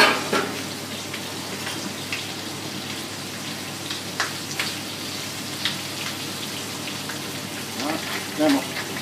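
Poultry pieces with chorizo brown in a pan, a steady moderate sizzle and crackle running throughout with a few louder spits, close by and without talk.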